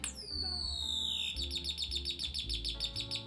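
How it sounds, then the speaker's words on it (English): Vintage electrified chirping ball Christmas ornament giving a sharp descending electronic whistle, then a rapid, regular string of high bird-like chirps, clear and close. "Next is the electrified chirping ball Christmas ornament."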